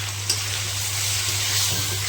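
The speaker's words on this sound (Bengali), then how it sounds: "আমি মশলাটা দিয়ে ভালো করে মিশিয়ে নেব।" Ground spices, chilli, cumin, coriander and turmeric powders, sizzle steadily in hot oil in a pan for aloo dum, a continuous close hiss with a faint stir near the start.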